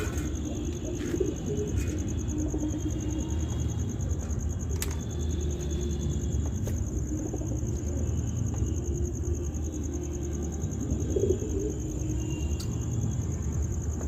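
Soft, low pigeon coos murmur intermittently over a steady background hiss, with a high electronic whine and occasional sharp clicks.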